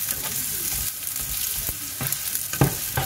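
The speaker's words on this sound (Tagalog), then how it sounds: "Igisa lang natin ang sibuyas at saka bawang." Onion and garlic sauté in a pan with a steady close sizzle. Occasional clicks and scrapes from stirring cut through it.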